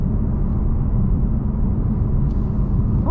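A 2018 BMW M4 driving on the street, heard from inside as a steady low engine and road rumble, constant and fairly loud with no talking.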